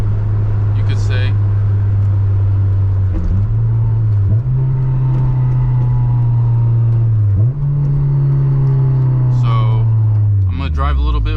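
A Honda S2000 drives along on a commute, its engine holding a loud, steady drone heard from inside the cabin that steps up in pitch at each gear change, with brief voice bits over it.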